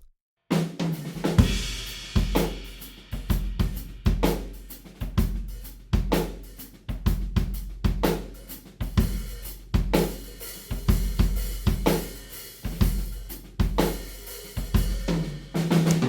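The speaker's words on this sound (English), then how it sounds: "The whole drums again with all the microphones on." A full drum kit recorded with all microphones including room ambience mics, playing a steady groove with a punchy kick and snare, sounding roomy and spacious with natural reverb.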